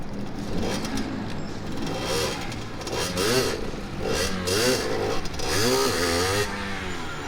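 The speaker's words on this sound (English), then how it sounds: "Ooh, look at that burnout." A 2020 Sherco 50cc two-stroke supermoto revs in quick, raspy, buzzing bursts during a burnout, close and loud, its pitch rising and falling repeatedly.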